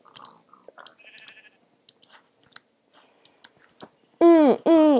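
Two loud, close sheep bleats from the video game Minecraft end the passage, following scattered soft clicks and game sounds.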